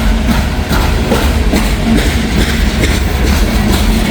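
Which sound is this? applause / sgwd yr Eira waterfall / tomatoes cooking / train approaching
train approaching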